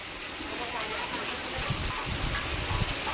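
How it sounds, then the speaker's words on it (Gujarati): Heavy rain pours outside during a windstorm, a dense, continuous hiss of drops hammering surfaces nearby. Voices talk faintly beneath the downpour. "જો વરસાદ જબ્બર પડે બહાર."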